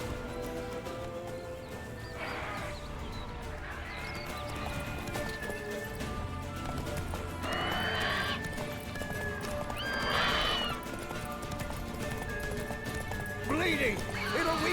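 Roach the horse galloping in The Witcher 3, rapid clip-clop hoofbeats with repeated whinnies and neighs over game music and ambience, a voice speaking briefly.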